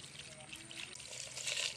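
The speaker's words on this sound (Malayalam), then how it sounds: "കുറച്ച് വെള്ളം ഒഴിച്ചു കൊടുക്കുന്നുണ്ട്" Water poured from a small bucket onto garden plants, a soft steady splashing hiss that swells slightly near the end, faint and brief.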